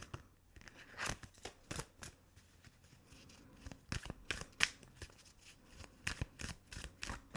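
Tarot-style cards for a card reading are shuffled close by, a quiet irregular series of soft riffling snaps and rustles in short bursts.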